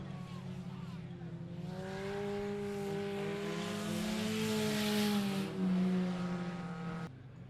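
Race cars roar around the I-37 Speedway oval during a night heat race, engines droning and rising in pitch as they accelerate, with an announcer's commentary running over the steady engine noise.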